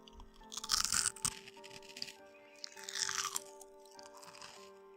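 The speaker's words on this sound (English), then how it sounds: "Alright, let's try out a crunch." Loud, close crunching bursts, two main crisp crackly bites with softer crackle trailing after, set against a low steady hum and no speech.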